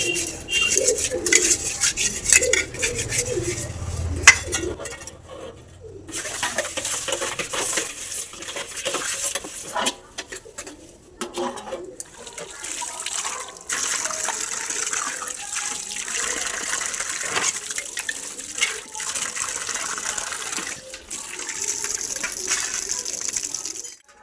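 Dishes are scrubbed and washed with ash and soap powder in an outdoor setting, with steady rubbing and scraping of metal pots, clinks of utensils and splashing water, plus bird calls in the background.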